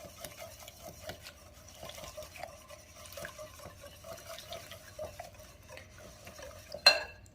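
A fire crackers seasoning mixture with red pepper flakes being whisked in a bowl, quiet rhythmic ticking strokes of a whisk against the sides, ending with a sharper clink.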